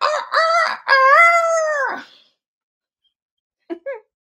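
Human voice imitating a rooster crowing, one long drawn-out cock-a-doodle-doo call, close and loud, then silence and a short burst of voice at the end.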